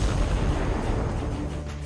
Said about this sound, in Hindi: उसके फौरन बाद एक बेहद भयानक धमाका हुआ और सब कुछ खत्म हो गया।